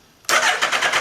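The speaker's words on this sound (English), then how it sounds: "So we'll press the start button." A car engine is started by push button and catches within a fraction of a second, then runs with a loud, close, pulsing rumble.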